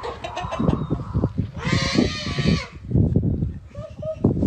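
A chicken attacking a child of about two or three, clucking and squawking among a child's cries and yells, with loud chaotic voices throughout.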